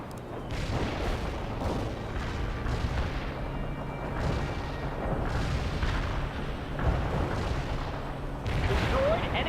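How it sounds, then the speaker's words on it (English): Battlefield gunfire and artillery in World in Conflict, repeated booms and bursts of shots over a dense rumbling din, with voices talking over the combat. "They're firing at us."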